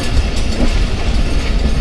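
A passenger train on the Karachi–Peshawar line rumbles past up close, producing a loud, continuous clatter of wheels and carriages throughout the short moment.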